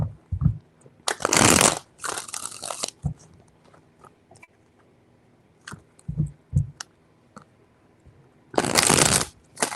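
Tarot cards shuffled in three quick bursts of riffling, with soft taps and clicks between them, close and fairly quiet.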